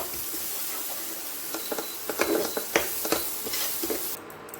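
Spices with a little turmeric and sugar being stirred in a frying pan for an egg dish, with scraping strokes and bursts of sizzle over a steady hiss, fairly close and moderately loud, no talking.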